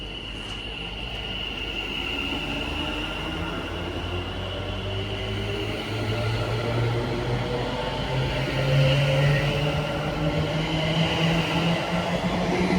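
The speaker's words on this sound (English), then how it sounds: "Soon to depart now, about 20 minutes late, will be the 11:54 London North Western Railway service to Crewe, led by 73217." A London North Western Railway train led by 73217 departs Nuneaton on the West Coast Main Line, its steady rumble and motor hum swelling gradually louder over several seconds without any voices.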